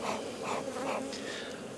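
Honeybees buzz inside a hive during queen-rearing work with a cloake board, a soft, continuous droning hum with gentle swells, close by and fairly quiet, with no voices.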